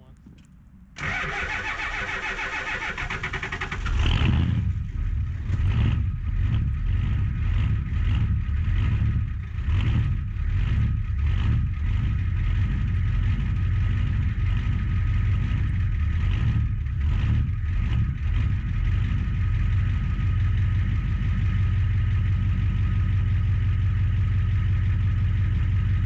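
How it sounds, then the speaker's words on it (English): An old Ford IDI diesel engine cold-starts with a short cranking burst, catches, and settles into a loud, steady, clattering idle close by that continues alone to the end. "I got the old IDI fired up"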